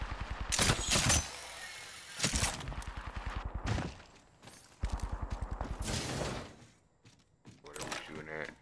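Gunfire in the video game Apex Legends, heard as several rapid bursts of automatic shots separated by short gaps, fairly close and loud, with a player talking in between.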